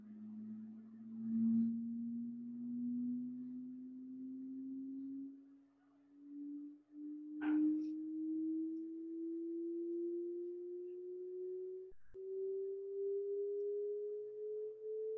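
A pure sine tone sweeps slowly upward in pitch from low to higher over the whole stretch, steady and clean, with a few brief clicks.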